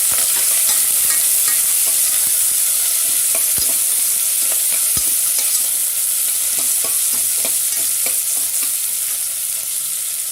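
Onions frying with green chilies and ginger for millet khichdi, a steady close sizzle in a pan with occasional scraping stirs, no voices.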